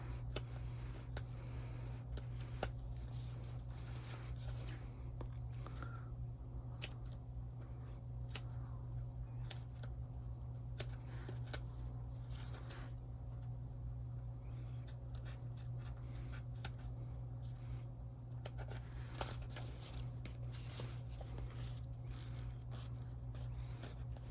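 Scissors trim loose threads on custom fabric, giving small scattered snips and scratchy rubs over a steady low hum, close and quiet, with no voices.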